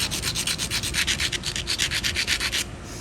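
Steady rhythmic scraping as a hornstone piece is ground against copper, about five strokes per second in a close, even grinding rasp that stops abruptly near the end.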